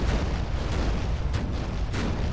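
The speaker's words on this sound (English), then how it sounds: "The naval guns are amazing. You're able to fire from so far away" Naval cannons on a land battleship fire in the Ravenfield video game, with loud booms at a steady rhythm of roughly one every half second over a dense, continuous rumble of battle.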